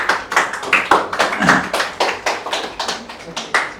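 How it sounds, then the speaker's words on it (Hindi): A small group in a physics class claps steadily in quick, even applause, close by, with a voice briefly speaking over the start. "तालियां होनी चाहिए"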